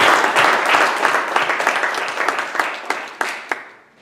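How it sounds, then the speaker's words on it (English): An audience at a Toastmasters club's 200th meeting celebration claps loudly at first, the applause thinning into scattered individual claps and fading out at the end. "Then let us applaud loudly."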